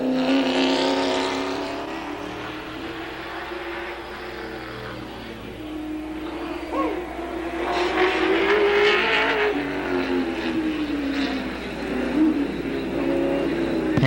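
A race car at an ASA pit stop, its engine rising in a loud revving roar as it pulls away, close and then falling off slightly, with faint crowd or commentary noise underneath.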